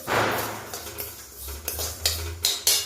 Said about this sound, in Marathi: आता हे दोन्ही व्यवस्थित परतून घ्यायचं दोन्ही गोष्टी व्यवस्थित परतून घ्यायचं तीळ आणि खसखस